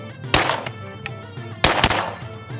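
Two loud suppressed rifle shots from a SureFire Mini 5.56 suppressor on a 4-prong flash hider, firing M193 ammunition, spaced about a second and a half apart, each a sharp crack with a brief ringing tail.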